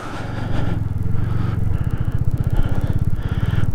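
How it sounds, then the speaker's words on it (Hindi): A motorcycle rides along a dusty Nepal mountain road, its engine rumbling steadily and close with a rapid pulsing throb, loud and continuous with no talk. "बाइक कहीं की कहीं जा रही है,"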